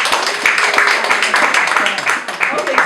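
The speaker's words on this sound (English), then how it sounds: "So applaud to everybody." Audience applause: a dense, steady patter of many hands clapping together, loud and close, holding for a few seconds.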